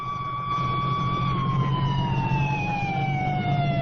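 An ambulance siren wails continuously, its tone slowly sliding lower as it moves away, loud and clear over faint traffic rumble.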